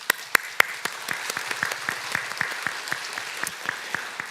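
A church congregation at a Sunday worship service claps in encouragement, a light patter of separate hand claps with a few sharper ones early on, fairly close and with no talk over it.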